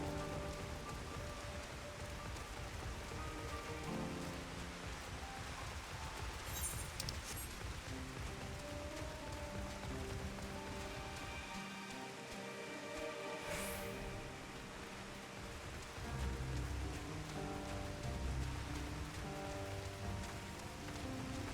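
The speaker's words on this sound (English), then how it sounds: "I don't like the fact that it's raining constantly." Constant steady rain in Final Fantasy XIV, a dense even hiss of drops on surfaces that continues unbroken throughout, with no voices.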